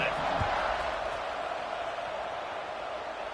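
Football stadium crowd cheering at a kickoff, a broad, steady roar of many voices that stays loud for the whole stretch, with a commentator talking over it.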